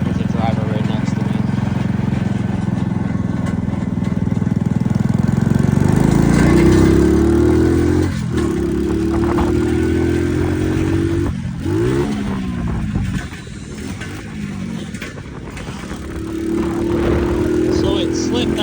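A four-speed mini chopper motorcycle engine droning loudly while riding, pitch rising and falling with throttle and gear changes, one dip midway, with voices talking over it.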